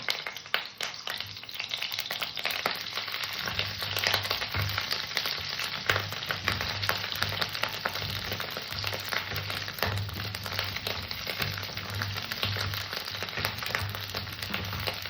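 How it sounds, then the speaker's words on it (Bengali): Cauliflower pieces frying in hot mustard oil in a heated wok give a dense, continuous crackling sizzle, close and steady throughout with no talking. "আমি দিয়ে দিলাম সর্ষের তেল তেলটা গরম হয়ে গেছে আমি সর্বপ্রথমে ফুলকপি কটা ভেজে নেব"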